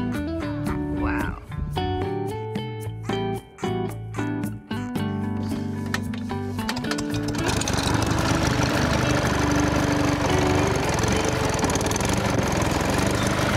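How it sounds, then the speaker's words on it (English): A tractor-pulled lawn mower engine starts up and settles into a loud, continuous running drone, with some clattering and voices at the beginning. "This red tractor is pulling a big lawnmower."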